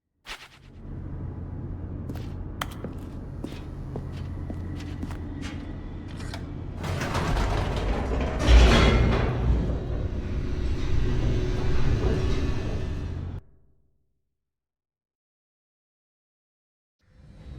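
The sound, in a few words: elevator mechanism descending in the video game The Stanley Parable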